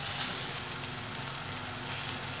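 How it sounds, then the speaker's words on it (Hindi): Garlic and ginger fry in a pan for mutton karahi, giving a steady, even sizzle with a faint crackle that holds constant throughout, close and moderately quiet, with no talk. "लहसुन अदरक को 1 मिनट के लिए भूनेंगे"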